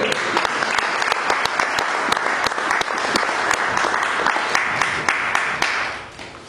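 A church congregation applauding during a pastor's sermon, sustained dense clapping from many hands with a few sharp louder claps, filling the room evenly before tapering off at the close.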